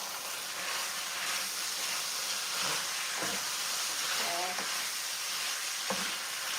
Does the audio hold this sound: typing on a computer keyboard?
no